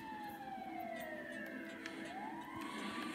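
An ambulance siren wails with slowly sweeping pitch in a cop role-play scene, steady and fairly faint, as if coming from a toy or a distance, with no talking over it.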